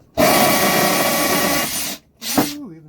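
A DeWalt 20V Max XR brushless compact 1/2-inch drill with a 2Ah lithium-ion battery runs in hammer mode. A loud, close, buzzing whine holds for nearly two seconds, cuts off, then restarts briefly and winds down in pitch.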